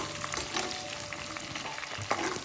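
Dried red chillies fry in a pan over a moderate flame for Pallipalayam chicken, giving a close, continuous crackling sizzle with small pops and stirring scrapes, with no talking.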